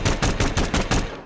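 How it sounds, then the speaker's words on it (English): Gunfire from the Concept 5, a clip-fed revolver in the video game Hitman 2, rings out in a rapid string of about six loud, close shots in even rhythm that fade at the end. "has a generic gunshot noise."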